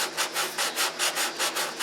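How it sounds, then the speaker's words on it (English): Sanding block rubbing back and forth over filler in a balsa wood fillet, about eight steady even strokes in a regular rhythm, close and moderately loud with no talking. "I'm sanding it flat now"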